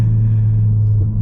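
A MK4 Ford Focus ST Edition with 300 horsepower and front-wheel drive rumbles along a road, its exhaust producing a loud, steady low drone close to the listener without talk.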